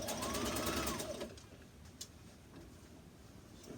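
A sewing machine running a test basting stitch, a fast close mechanical whir for about a second and a half before it stops, followed by quiet handling sounds.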